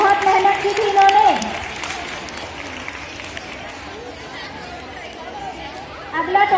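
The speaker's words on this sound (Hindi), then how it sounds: "इन तीनों के लिए भी जोरदार तालियां।" Audience clapping and cheering for three prize-winning students at a school award ceremony, loud at first with chatter, then fading to a steady background of crowd noise and talk before clapping swells again at the end.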